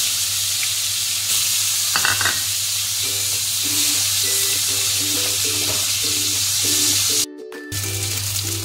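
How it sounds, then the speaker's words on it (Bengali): Shol fish frying in hot oil gives a steady, loud sizzle throughout, with light clinks of a utensil and a brief sharp scrape near the end. "মাছটা ছেড়ে দিলাম, ভেজে নিতে হবে।"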